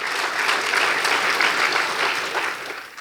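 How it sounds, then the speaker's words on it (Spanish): A church congregation applauding, steady dense clapping from many hands at moderate loudness that tapers off near the end. "¿Por qué no le damos una ofrenda de palmas al Rey de Reyes y Señor de Señores?"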